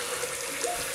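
Water gurgling and rushing down a bathroom sink drain as the plug is pulled after shaving, a brief steady close wash of draining water.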